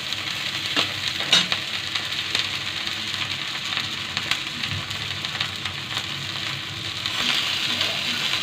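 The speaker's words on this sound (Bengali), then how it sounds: "রুই মাছটাকে দিয়ে দিয়েছি ফ্রাই প্যানে।" Rohu fish fries in oil in a frying pan, giving a steady crackling sizzle with scattered pops and spits throughout.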